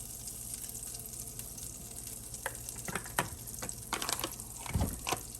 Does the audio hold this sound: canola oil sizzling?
yes